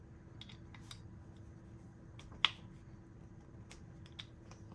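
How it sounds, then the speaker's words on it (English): A driver tightens a body screw on a textured titanium Two Sun TS177 Maverick folding knife: faint, sparse metallic ticks with one crisp, louder click midway, over a quiet hum. "First, let me fully tighten this body screw."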